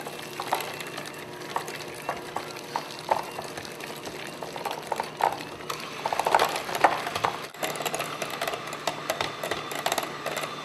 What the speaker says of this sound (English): I'm just going to beat those up until it's nice and creamy